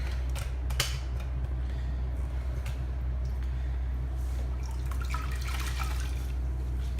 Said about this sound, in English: I'm just going to use that to wipe up the excess bleach and bicarb.